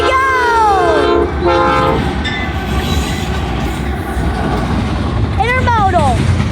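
Intermodal freight train rolling past with a steady low rumble of wheels, while a bending horn-like tone sounds early and again near the end and a person talks over it.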